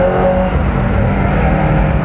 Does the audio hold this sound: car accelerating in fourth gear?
yes